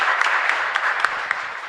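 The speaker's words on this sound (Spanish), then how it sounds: "Un fuerte aplauso para ellos." A congregation at a Mass in a chapel claps steadily in dense, continuous applause with a few sharper individual claps standing out, no voices over it.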